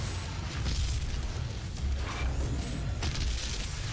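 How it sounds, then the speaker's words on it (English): Explosion in the DOOM video game: a loud, sustained low rumbling boom that fills the whole moment, with dense crackling debris noise and no speech over it. "Oh no, this is actually a pretty good explosion."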